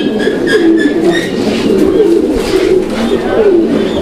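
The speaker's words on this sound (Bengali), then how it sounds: "আমরা এই মুহূর্তে দেখতে পাচ্ছি এখানে আরো এক জোড়া কবুতরের কালেকশন আছে" Pigeons coo repeatedly at close range, rhythmic throaty calls overlapping in a steady loud chorus.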